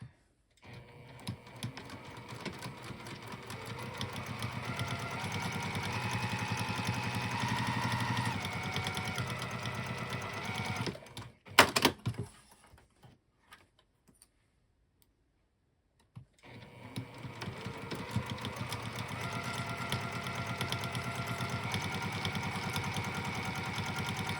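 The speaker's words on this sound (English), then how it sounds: "I'm just going to sew these last two edges of the lining together." A sewing machine runs steadily while stitching the edges of a bag lining, with a dense fast needle chatter that stops for a few seconds of near-silence and then resumes, close and even.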